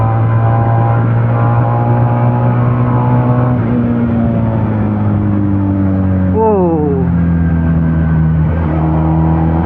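A Benelli Patagonian Eagle 250 motorcycle engine drones loud and close, holding a steady pitch before a quick rev that swoops upward and settles again.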